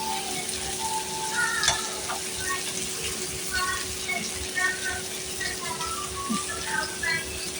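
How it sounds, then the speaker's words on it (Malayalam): Chicken pieces sizzle in a hot pan for chilli chicken while a utensil scrapes and stirs intermittently, with faint background noises over a steady frying hiss. "ചിക്കനും കൂടെ ഇട്ട് ഇളക്കുക"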